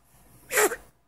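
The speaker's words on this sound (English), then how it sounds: "Oh, you sneeze like your mama." A baby gives a single short, sharp sneeze, close and clear, in an otherwise quiet room.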